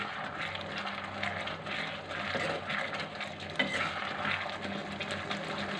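Veg manchurian cooks in a pan, giving a steady soft sizzle and frying hiss throughout, with faint stirring scrapes and an occasional clink, fairly quiet and with no voices.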